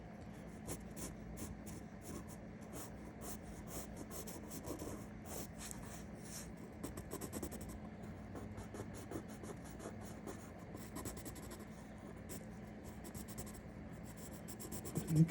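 Pencil scratching and rubbing across paper while sketching a helicopter, a soft, continuous rasp of short strokes and shading, close and quiet, with no voices.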